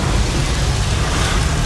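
Steady, dense roar of heavy rain in Guatemala, loud and continuous throughout with no pauses.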